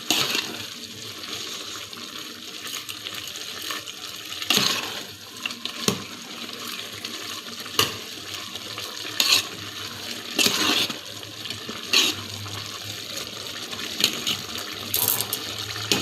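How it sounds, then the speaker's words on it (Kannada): Ragi vermicelli upma stirred and mixed in a pan, soft repeated scraping and clinking strokes at irregular intervals over a steady hiss, close and moderate in level, with no talk. "ಇದನ್ನು ನೀಟಾಗಿ ಒಂದು ಸಲ ಕಲಸ್ಕೊಂಬಿಡೋಣ್ರಿ"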